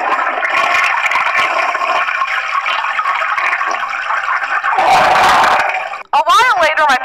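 A toilet flushes with a loud, close, sustained rush of swirling water for about six seconds. It cuts off sharply, followed by a brief gurgling refill.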